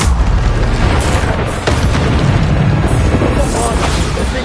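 A Descendo spell is cast in the video game Hogwarts Legacy, a loud booming magical blast amid dense, continuous combat effects and rumbling impacts.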